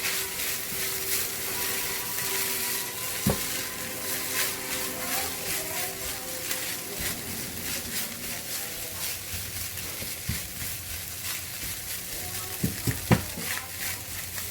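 Egg fried rice being stirred in a pan, giving a steady sizzle with scraping and clattering spatula strokes near the mic, plus a few sharper knocks toward the end.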